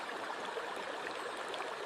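A winter creek rushes fast through a narrow snowy channel, giving a faint, steady broadband wash of flowing water with no voices.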